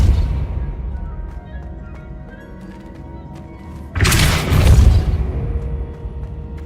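A Depulso spell cast in the Hogwarts Legacy video game bursts out as one loud, broad whoosh-and-thud blast about midway, rising sharply above quiet game ambience and fading over a second or two.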